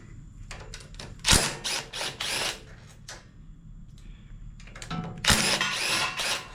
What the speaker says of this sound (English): And we'll take the head bolts out.